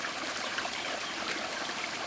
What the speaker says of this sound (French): c'est magnifique, petit ruisseau